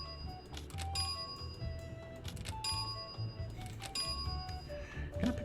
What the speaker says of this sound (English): I'll try ringing the bell.